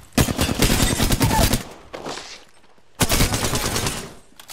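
Enemy gunfire in Apex Legends, two loud bursts of rapid automatic shots, the first long and the second after a brief pause, with a quieter stretch between.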